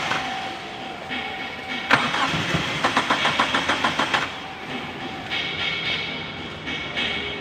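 A Mitsubishi Adventure with a 4G63 engine cranks while trying to start, a rapid rhythmic chugging of about a dozen strokes that stops without catching, close and fairly loud amid workshop background noise.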